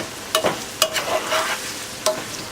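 Zucchini with bay leaves sizzling in a pan while being stirred and turned, with several sharp scraping strokes over a steady, moderate frying hiss, close up and with no talking.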